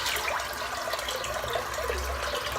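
Tap water runs steadily into a sink basin as it refills during a head shave, a continuous broadband rush with no voices over it.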